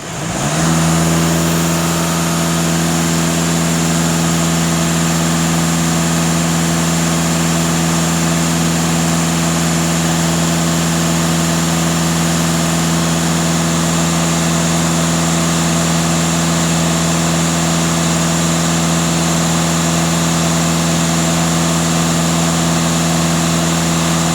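A Skoda 2.0 TDI diesel engine rises quickly and then holds a steady, loud, close drone at about 2500 rpm for the whole stretch, with no speech over it.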